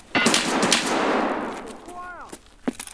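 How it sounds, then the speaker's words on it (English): Gunfire in the video game Escape from Tarkov, a loud burst of several shots followed by a decaying rumble and a few sharp later cracks, with people talking over it. "He's shooting at us"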